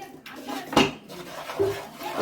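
Chilli sauce and water are stirred in a cooking pan for gobi manchurian, producing a few close, fairly quiet metallic scrapes and clinks.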